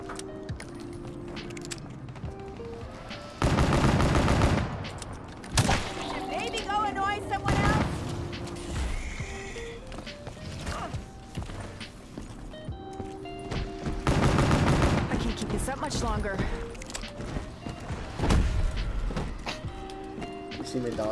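Gunfire in Call of Duty: Black Ops 3 Zombies, with repeated loud bursts of shots and weapon effects across the whole stretch under ongoing game sounds and players talking.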